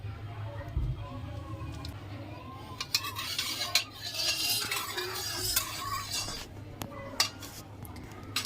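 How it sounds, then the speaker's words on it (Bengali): Mustard oil going into a hot kadai for chicken curry, with scattered metal clinks and stirring scrapes over a faint sizzle, sharp knocks punctuating the low background. "এখন কড়াইতে তেল দিয়ে দেবো সর্ষের তেল দিয়ে দিচ্ছি"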